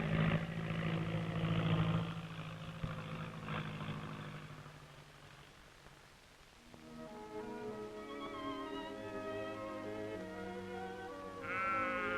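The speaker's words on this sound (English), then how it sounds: "the sheep come off the hill paddocks, looking fat and thriving and ready for the sales" Several sheep bleat in overlapping, wavering calls as they come off hill paddocks, with a low engine-like drone beneath at times, moderately quiet and somewhat distant.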